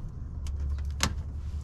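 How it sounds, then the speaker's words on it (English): A plastic bumper clip on a Subaru Crosstrek is popped loose with a prying tool, giving one short, sharp snap close by over a low steady background hum. "So we're gonna just get a prying tool in there. Pop one out."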